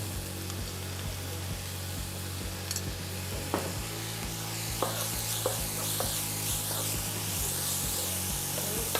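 Rice stir-fried in a pan with fish and added chili paste sizzles quietly and steadily. Scattered scraping and clacking strokes from stirring cut through the hiss.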